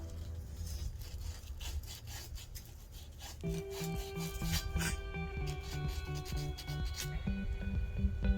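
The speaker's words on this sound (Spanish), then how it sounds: "de igual forma lijas lo que es la pipa." Steady back-and-forth rasping of sandpaper against copper pipe, strokes repeating rhythmically and close, with a humming tone joining partway through.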